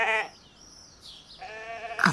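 A cartoon sheep bleats twice, a short wavering call at the start and a longer one later, clear and fairly close with quiet between.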